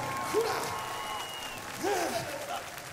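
An audience applauds the junior players of Polonia Bydgoszcz at a cabaret tournament between Bydgoszcz and Toruń. The clapping is fairly faint and diffuse, with voices and cheers rising through it twice.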